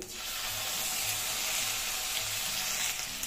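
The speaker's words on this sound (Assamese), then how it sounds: "বিলাহীটো ইয়াৰ লগত ভাজি ল'ম" Tomato frying in a pan for a dal puri breakfast, giving a steady, close sizzle of hot oil that holds evenly throughout with no pauses.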